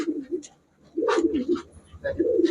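A pair of red Musaldom pigeons coo in short, repeated bursts, close by, with a voice talking in between the calls.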